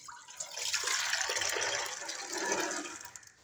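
Water from overnight soaking pours with black chickpeas into a pressure cooker, a steady splashing rush that swells for about three seconds and then tails off, with no talking.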